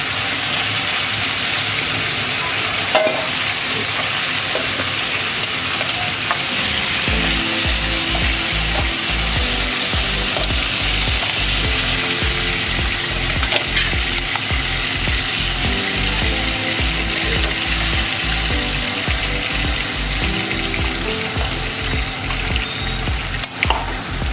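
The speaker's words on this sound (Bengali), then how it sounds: "পুরো ভালো করে ভাজিনি, জাস্ট ছাঁকিয়ে নিচ্ছি" Food lightly fried in hot oil for a crab curry: a loud, dense, continuous sizzle with a steady rapid low-pitched bubbling that kicks in after several seconds and carries on throughout.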